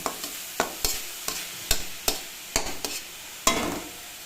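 Stalky greens are stirred and fried in a pan over a full gas flame after their liquid has cooked away. A spatula scrapes in sharp, irregular strokes over a soft continuous sizzle, close up, with no voices.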